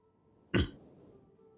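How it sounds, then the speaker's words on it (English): Coughing and throat clearing: one sharp, harsh cough-like burst that fades quickly, close and alone against a quiet room background. "I've started coughing my lungs up."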